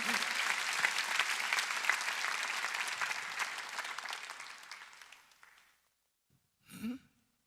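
A church congregation applauds, dense and steady at first, then tapers and fades out; after a short silence a single brief throat or nose sound follows.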